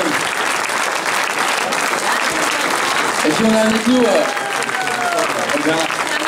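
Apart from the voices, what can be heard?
audience applauding two race champions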